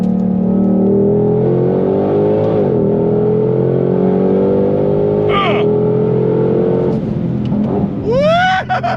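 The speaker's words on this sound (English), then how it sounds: "V8 coming out, the exhaust is glorious." Loud, close exhaust roar from a Ford Shelby GT500 (S550 Mustang) V8 accelerating in repeated surges, the pitch climbing and falling through gear changes before breaking into rougher, sharper bursts near the end.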